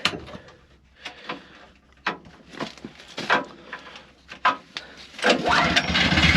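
A small engine pull-started outdoors, several sharp rope-pull strokes and mechanical knocks before the motor catches and settles into a steady running roar, close to the listener.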